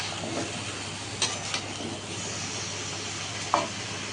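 Vegetables fry with a steady close sizzle in a pan as they are stirred, with a few light utensil clicks and scrapes against the metal and no talking.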